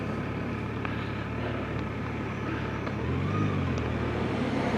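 A 2019 Yamaha FJR1300 AE motorcycle engine idles just above tick-over at about 1,500 RPM, a steady low rumble heard close with faint background noise and a slight swell near the end.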